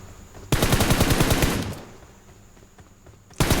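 M4 rifle fire in the mobile battle-royale game BGMI, a loud rapid burst of automatic shots lasting about a second, followed by quieter scattered reports and faint distant fire, then another loud burst starting at the end.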